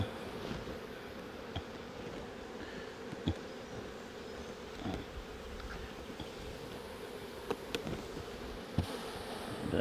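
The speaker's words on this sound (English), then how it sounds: "So I'll just let those field bees fly off." Honey bees hum around an open hive during an inspection for varroa mites in Coramba. A dense, steady buzz fills the scene, with occasional soft knocks and handling sounds close by.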